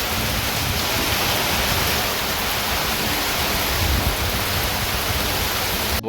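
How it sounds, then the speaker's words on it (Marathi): Heavy monsoon rain pours down over a Konkan village, a dense, steady hiss that fills the whole clip without letting up and with no voices. "जोरदार पावसाला सुरुवात झाली."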